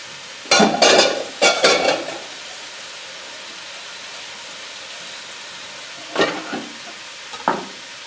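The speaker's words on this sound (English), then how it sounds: "I'm going to make sure that I stir it around so that the meat touches the bottom and starts to get cooked, seared." Chunks of meat searing in a hot pot on the stove and being stirred around, heard as a few short bursts of scraping and sizzling clatter with quiet gaps between them, no talking.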